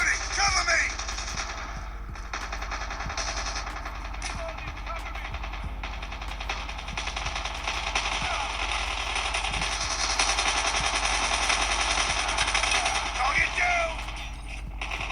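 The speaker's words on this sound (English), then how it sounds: "Now I'm able to even shoot some guys." Rapid gunfire from a mobile shooter game played on a Xiaomi Redmi 8 phone, repeated sharp shots crackling through a dense, continuous game soundscape.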